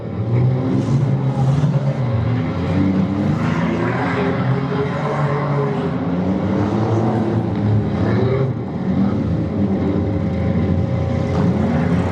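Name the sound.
race cars racing at demolition derby powder puff race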